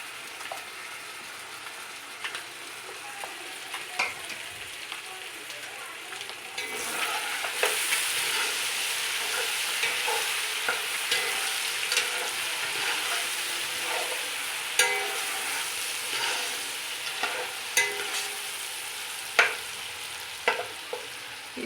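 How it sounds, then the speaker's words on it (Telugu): Green chilli, ginger and garlic paste frying in hot oil for egg biryani, giving a steady close sizzle that swells and thickens partway through, broken by scattered crackles and pops. "ఇది ఆయిల్లో బాగా ఫ్రై చేయాలండి, పచ్చివాసన పోయేంత వరకు."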